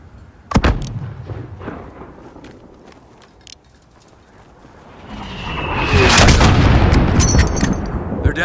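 Gunfire and mortar fire in Call of Duty: Modern Warfare (2019): a sharp loud blast early, scattered shots and rumble, then a rising roar of heavy sustained firing and explosions dominating the second half.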